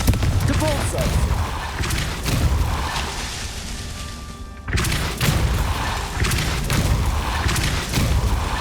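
A Depulso force spell cast in Hogwarts Legacy produces a series of booming, thudding blasts amid dense game action, with a brief drop in level midway before the impacts resume loud and close.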